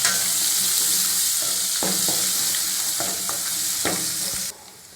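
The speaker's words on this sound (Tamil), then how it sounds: "வெங்காயம் நல்லா வதங்கட்டும்." Onions with turmeric sautéing in a hot pan, a steady loud sizzle broken by several sharp spoon scrapes and stirs, then cutting off abruptly near the end.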